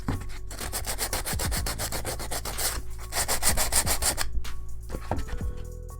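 Dense, scratchy rubbing strokes repeat rapidly and close up as filler is sanded smooth on a small sci-fi model shipping container, a continuous abrasive rasp with slight variations in pressure.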